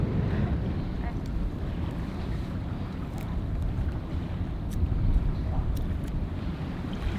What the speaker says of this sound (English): it's sort of misting and windy